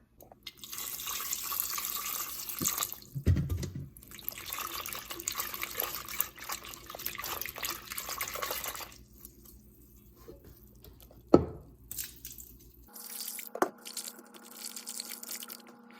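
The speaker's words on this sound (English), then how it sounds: "So I'm gonna go rinse those quick and I'll meet you back here." Potatoes rinsed under a running kitchen tap, a steady hiss of flowing water broken by pauses, a sharp knock near the end and then quieter dripping and handling sounds, no speech.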